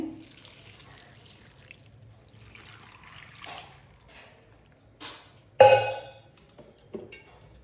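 Water splashes into a cooking pot of sprouted-bean and greens curry, a short loud pour near the end after faint trickling and drips, close and with no talk.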